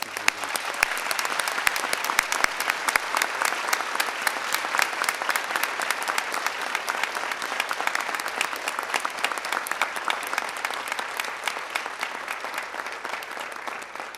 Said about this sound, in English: if you would please help me give them a round of applause